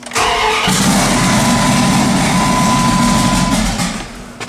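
A twin-turbo 5.2 Magnum engine cranks briefly and fires, then settles into a loud, steady, close-up rumbling idle that holds for several seconds before easing slightly at the end.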